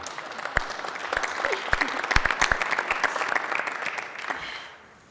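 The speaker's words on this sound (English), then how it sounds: "applause." Applause at a school board meeting for the Upper Darby varsity football team, a room of people clapping with sharp individual claps standing out, building and then fading away at the end.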